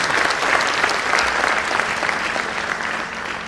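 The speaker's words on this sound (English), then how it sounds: "I request a round of applause for the chief guest." Convocation audience at an agricultural university gives the chief guest a round of applause, a full, steady clapping that stays strong and eases off slightly at the close.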